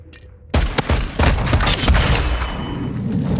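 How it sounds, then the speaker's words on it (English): In the video game Modern Warfare II, a flash grenade goes off with a sudden loud bang after a brief quiet moment. Several more sharp cracks and gunfire-like bursts follow close behind, then fade into a rumbling tail. "flash grenade!"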